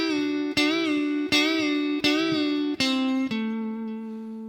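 An electric guitar plays a solo lick, five picked notes bent upward in a steady rhythm before a final held note rings out, close and clear.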